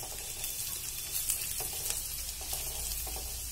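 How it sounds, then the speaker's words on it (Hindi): Garlic frying in a pan over a high flame, a dense steady sizzle with bright crackling spatter running continuously, close and even. "फ्लेम थोड़ा सा तेज कर देंगे ताकि जो हमारा लहसुन है थोड़ा सा बर्न हो जाए"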